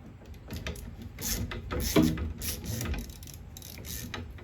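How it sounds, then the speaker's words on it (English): A wrench works against a bolt on a VW Beetle steering box, giving close metallic ratcheting clicks and scraping mechanical noise over a few seconds, with a brief louder clunk midway. "Press the wrench against there. Break it loose."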